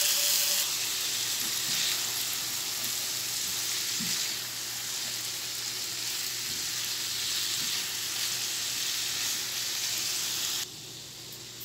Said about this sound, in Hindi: अब मैं इसमें मैरिनेट की हुई चिकन डाल रही हूँ, 4-5 मिनट मैं इसे पकाऊंगी